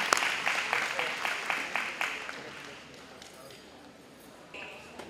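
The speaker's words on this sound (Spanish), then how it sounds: "Un aplauso fuerte para los estudiantes de PSJA Early College High School." A burst of clapping for students at a dual language bi-literacy certification ceremony, strong for a couple of seconds and then thinning out into a quieter room, with voices faintly present.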